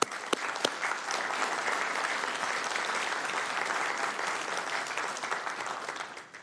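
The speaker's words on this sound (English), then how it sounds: "I just want to give them a big round of applause for that." Audience at a Sacramento City Council evening meeting applauding steadily, a dense wash of clapping that holds for several seconds before tapering at the end, with a few sharper claps standing out near the start.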